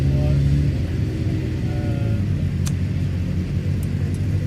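A hillclimb race car at the start line, its engine running rough with a low uneven rumble and wavering idle drone, fairly loud and close, with a couple of faint sharp clicks.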